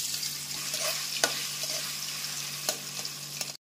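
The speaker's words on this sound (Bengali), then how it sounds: "এবারে পনিরগুলো ভাজবো" Paneer pieces fry in hot oil with a steady, close sizzle, broken by a few brief clicks from a utensil and no talking.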